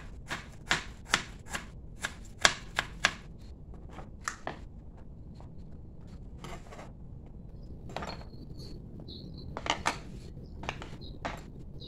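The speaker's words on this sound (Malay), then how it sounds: "Separuh tadi untuk kisar dan yang ini saya iris kecil-kecil." Ginger sliced into small pieces with a knife on a cutting board, a run of sharp, close taps in uneven bursts, some quick and clustered, others spaced apart, with no talking.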